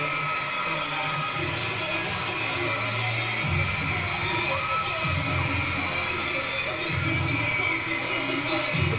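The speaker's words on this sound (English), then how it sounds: "Fucking crowd is going off." A concert crowd screaming and cheering during a dance performance, a constant high roar of voices over pounding, throbbing bass from the music, loud and unbroken throughout.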